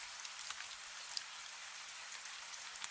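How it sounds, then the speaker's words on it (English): Steady soft rain falls close by, an even hiss of fine drops on a surface with a few slightly louder taps scattered through, unbroken and calm. "You hear the rain, steady, soft, endless in the most comforting way."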